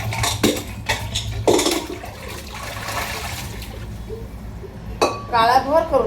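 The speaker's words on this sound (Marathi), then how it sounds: "पहिला कुकर घासून घेते." A blackened pressure cooker is scrubbed by hand, rough bursts of scouring mixed with metallic clinks and splashing water, and someone talks near the end.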